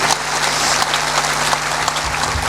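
An audience at a spiritual discourse claps together in sustained, dense applause, loud and close for the whole stretch, with no talking over it.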